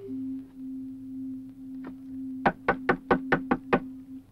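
Knocking on a wooden door, a short burst of about seven sharp, evenly spaced raps after a single faint knock, over a steady low hum with no talking.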